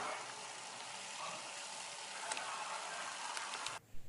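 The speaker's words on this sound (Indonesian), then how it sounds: "Kemudian digoreng dengan minyak panas metode deep frying" Donut dough deep frying in hot oil gives a steady, dense crackling sizzle with scattered pops, constant in level and without talk, until it cuts away abruptly near the end.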